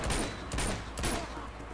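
Gunfire in Uncharted: Among Thieves comes as a rapid fusillade of overlapping shots, with several loud bursts in quick succession over constant noisy game ambience.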